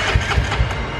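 A Honda CB 300 motorcycle engine fitted with a BMW R1200 piston (504cc) and a cracked piston cranks for a first start, sounding loud, low and rumbling in quick rhythmic pulses.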